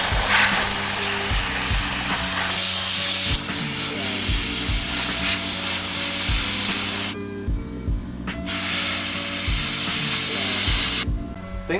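A $30 Harbor Freight spray gun hisses steadily as it sprays Cerakote coating onto dirt bike parts at home, with periodic clicks and brief pauses between passes, loud and close.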